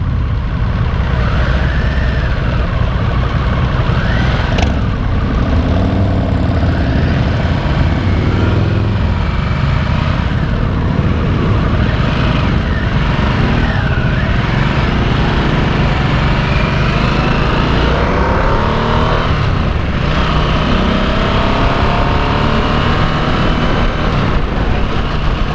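Harley-Davidson Nightster motorcycle engine running steadily throughout a ride, with loud continuous engine drone and rising and falling revs as gears are shifted near 3,000 RPM, plus wind rush.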